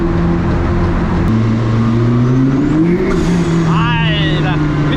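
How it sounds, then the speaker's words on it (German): McLaren P1 GTR race car engine roars loudly from inside the cabin, pitch climbing steadily as it accelerates hard, with a brief gear change near the middle; someone talks over the constant engine noise. "Es ist einfach arschlaut, dich haut's hier in dem Auto rum."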